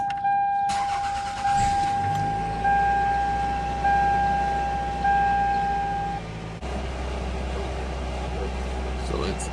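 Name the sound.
1999 Toyota Camry engine starting and idling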